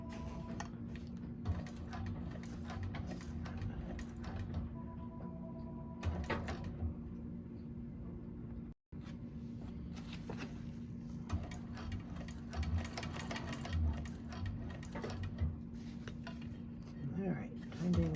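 A 1341 cylinder arm sewing machine runs steadily while back stitching a seam on a Camelia bag. The motor hums continuously with a brief break partway through, and a voice can be heard faintly in the background.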